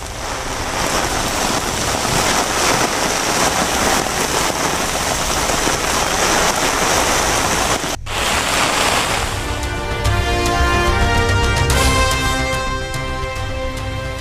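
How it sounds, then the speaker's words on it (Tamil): Heavy rain pouring steadily in Chennai, a dense continuous hiss of water falling, loud and close throughout, with a brief break partway through before the downpour resumes. "சென்னை புறநகர் பகுதிகளில் பரவலாக கனமழை."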